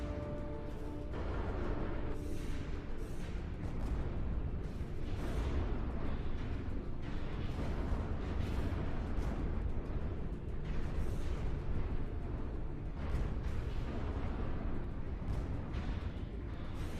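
Dense, continuous rumble of missile explosions in a Stellaris space battle, overlapping booms and bursts crowding together at a steady loud level for the whole stretch, with no voices.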